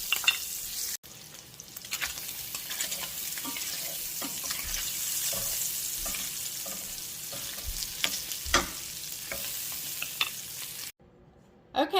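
Kielbasa sausage sizzling briefly in a pan on a home kitchen stove, a soft continuous fry hiss broken by scraping and stirring clicks and a short splash of running water, fairly quiet with no talking.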